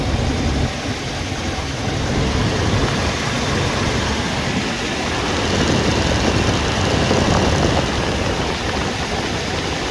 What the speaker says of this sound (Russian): Отличная работа двигателя.